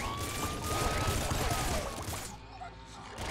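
Rocket launcher fire in the video game Nuclear Throne, a dense burst of explosive blasts and crashing game effects with rising whistling tones, loud and chaotic, fading into quieter game sounds.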